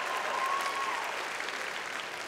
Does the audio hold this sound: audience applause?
yes